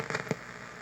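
Bursts of lightning static crackle on an AM radio receiver during distant thunderstorms, a few short sharp crackles within under a second over a steady hiss.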